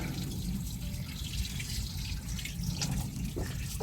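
Tap water runs steadily from a faucet, a constant hissing splash with no pauses, close and moderately loud.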